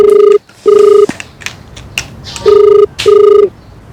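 A telephone rings loudly in repeated electronic bursts, two rings, a pause, then two more, with a faint voice in the gap.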